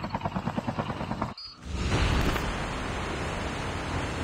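A helicopter in a video game: rhythmic rotor thumping at first, then after a brief dip a steady, loud roaring wash of noise that continues to the end.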